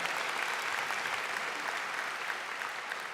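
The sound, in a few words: audience applause at American Legion Auxiliary convention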